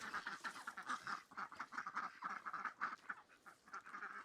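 A group of ducks quacks busily in the morning as they are let out, a dense run of nasal calls close by and fairly quiet, rising and falling in quick bursts.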